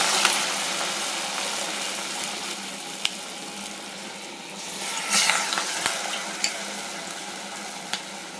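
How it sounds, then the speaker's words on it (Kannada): Black-eyed pea vadas in North Karnataka style deep-fry in hot oil, making a continuous bubbling hiss with scattered sharp crackles and pops, fairly loud and close, with no speech. "ಗೋಲ್ಡನ್ ಬ್ರೌನ್ ಬರೋವರೆಗೂ ಇದನ್ನ ಕರಿಬೇಕು"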